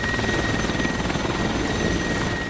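An Apache attack helicopter flies close by, its dense rotor and turbine roar steady and loud throughout, with a faint high whine running under the continuous thudding wash.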